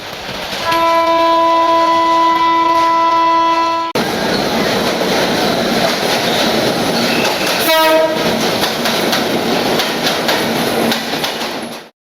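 A train passes through Santahar railway junction in Bangladesh, a long loud horn blast over the rumbling roll of wagons, then steady rail noise with a brief clatter of wheels before fading out.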